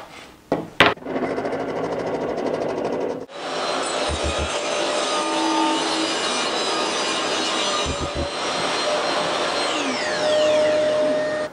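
A DeWALT DWE7491 table saw rips through a parquet floorboard, starting with a sharp motor spin-up, then a loud, steady whining cut that runs several seconds with faint knocks of the board, close and alone.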